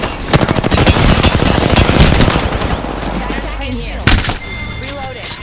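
Rapid automatic gunfire in the video game Apex, dense bursts of loud close shots filling the first few seconds, then a lull with a single sharp crack, while a voice talks over the action.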